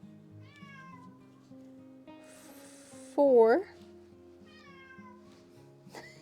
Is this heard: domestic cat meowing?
yes